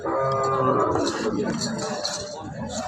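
Young Cholistani and Sahiwal calves moo loudly and nearby at a crowded livestock market before Eid ul-Adha, their calls overlapping with background chatter and clinking.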